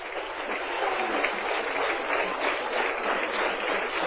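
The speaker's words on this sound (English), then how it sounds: "And you can hear the crowd clapping it up on an 0-2 count." A ballpark crowd claps steadily through an NCAA college baseball game between Rice and LSU at a 2002 Super Regional, with the pitcher on an 0-2 count. It is a dense, even wash of distant applause that holds for several seconds.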